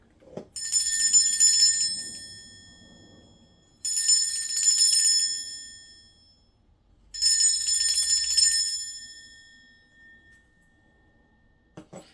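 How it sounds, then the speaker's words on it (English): A bright metallic bell rings three times, each ring sustaining and fading over a couple of seconds, with quiet pauses between strikes. "I am going to be ringing a bell."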